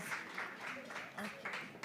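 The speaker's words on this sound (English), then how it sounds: "Let's welcome her with a warm round of applause." Audience applause welcoming a speaker at a business talk, steady clapping from a crowd, moderately loud and even through the short stretch.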